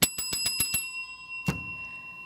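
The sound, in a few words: bell rung as a two-minute warning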